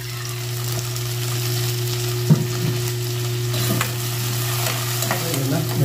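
Chopped tomatoes sauté and sizzle in a hot pan beside onions for tochong bangus, a steady frying hiss with a low hum beneath and occasional scraping stirs of a utensil.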